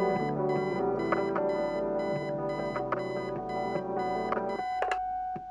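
Alarm clock beeping in the video game Kathy Rain: a rapid, evenly spaced series of sharp electronic beeps repeating loudly for several seconds, then stopping abruptly, followed by a couple of faint clicks.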